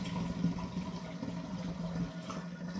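Coconut sparkling wine, homemade from coconut water, is poured as a small sample, giving a steady close trickle of liquid into a glass throughout, with no talking.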